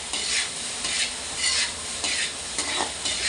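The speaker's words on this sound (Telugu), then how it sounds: "మిరియాలు వేసుకొని బాగా కలుపుకోవాలి. నేను వీడియోలో చూపిస్తున్నట్టు బాగా కలుపుకోవాలి" Egg fried rice with black pepper stirred in a hot pan: a steady loud sizzle with rhythmic scraping sweeps of the spatula, about one every half second, and no talk.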